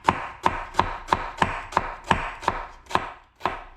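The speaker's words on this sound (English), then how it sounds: "You want to slice this fairly thin." A knife thinly slicing a red onion on a cutting board, about ten crisp, evenly spaced chops roughly every third of a second, close and clear with no talking.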